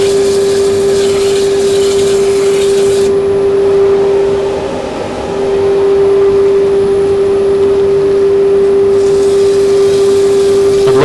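A wooden yarn bowl spins on a woodturning lathe while being sanded with 120 grit paper, giving a steady motor whine under continuous rough hissing that holds for the whole stretch, with no talk.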